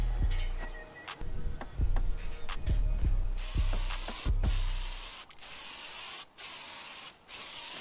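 A campervan grill hung on a clothesline is spray painted outdoors, first with quick ticking rattles of the can, then several long, loud hissing bursts with short pauses between.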